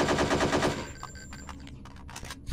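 AK-47 rifle gunfire in the video game Hitman: Codename 47: a rapid automatic burst, loud and close, lasting under a second before breaking into a few scattered clicks and clatters.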